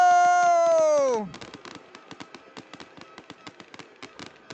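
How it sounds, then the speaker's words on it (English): Fireworks go off as a football team runs out at a playoff quarterfinal, a rapid train of sharp pops and cracks following a long sweeping tone that falls away. "Firework display."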